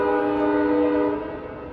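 Amtrak Capitol Corridor passenger train pulling out of Oakland Jack London Square, its horn blaring a loud sustained multi-tone chord that holds steady, then eases slightly as it fades toward the end, with no talk.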